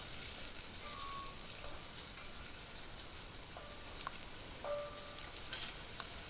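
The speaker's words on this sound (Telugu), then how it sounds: "ఇవి మెత్తబడే వరకు మీడియం ఫ్లేమ్లో పెట్టి ఫ్రై చేసుకోండి" Chopped onions fry on a medium flame, giving a steady, close sizzle with faint crackling and an occasional stir, with no talking.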